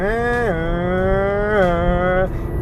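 A car with a CVT transmission hums and rises in pitch in smooth steps as it accelerates, a steady droning tone with two distinct shifts, heard up close.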